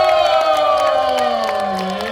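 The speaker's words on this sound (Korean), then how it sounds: "감성의 박수 다시 한번 부탁드립니다." A loud crowd cheers and whoops at the close of a live performance by a master pansori singer with a band, with long sustained vocal tones ringing over the audience noise.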